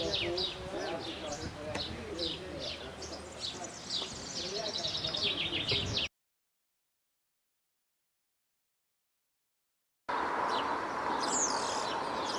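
Several birds around a nest call repeatedly, one of them in flight, with chirping coos close by at moderate volume; a silent gap breaks the sequence before calls resume over steady ambient noise.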